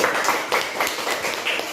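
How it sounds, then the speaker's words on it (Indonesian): Classroom clapping for a student named Siti during an Indonesian primary science lesson on magnets: a steady, dense patter of many hands from a small group, fairly close and continuous throughout. "Tepuk tangan dulu buat si Siti"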